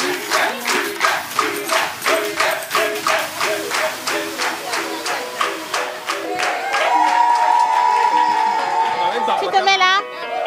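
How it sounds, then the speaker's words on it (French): A game show audience claps in a steady rhythmic burst for a contestant, loud and close, then the clapping fades into crowd chatter and a sustained tone near the end. "donc applaudissez pour votre candidat."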